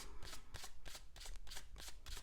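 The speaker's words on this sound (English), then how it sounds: "just shuffle this a little bit more" A deck of tarot cards riffled and shuffled repeatedly in quick bursts, close and crisp, with brief pauses between each pass.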